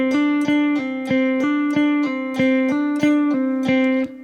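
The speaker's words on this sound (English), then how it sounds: "this is a really cool pattern that mixes both legato and picking together in a kind of a unique way" A guitar pattern mixing picked notes with legato hammer-ons and pull-offs, played as a clean, even run of single notes with sharp picked attacks every half second, clear and close with no talking.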